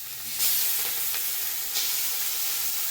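Tomato tipped into a pan of onions frying in a little oil sizzles with a steady, close hiss, and brighter bursts of crackle flare up at the moment of contact and again a little later.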